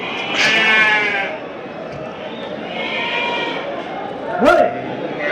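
Sheep bleat loudly and repeatedly close by at a weekly livestock market in Angallu, with a few shorter cries later, while people talk over them.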